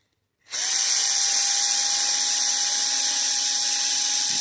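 A small AFX Tomy Turbo slot car motor spins up after a tune-up, starting abruptly and holding a steady, high-pitched electric whine close by, alone with no talking.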